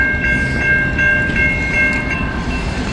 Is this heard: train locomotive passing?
yes